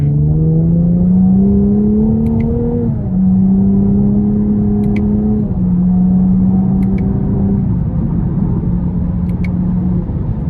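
A 2024 Chevrolet Camaro 2LT RS with a V6 engine, heard from inside while driving in manual mode, revs under light throttle in smooth rising tones with shifts between them. The sound is close and steady, and no one speaks.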